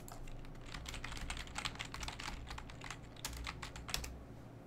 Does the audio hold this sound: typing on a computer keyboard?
yes